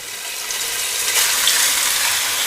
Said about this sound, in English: I'm going to cook the meat now into the same pan we used for the mushroom, onion and garlic mixture